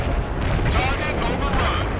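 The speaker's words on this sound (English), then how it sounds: "Napalm deployed." Napalm strike explosions from the war game World in Conflict roar as a dense, continuous rumbling blast, loud and close, with radio-style voice chatter over it.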